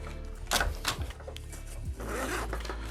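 A zipper on a black bag's front pouch is pulled open in a few short scratchy strokes, close up, with handling rustle and soft knocks in between.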